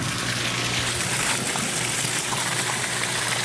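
A swimming pool pump running during a sand filter backwash, with water rushing and gushing steadily through the system alongside a low motor hum, loud and continuous throughout.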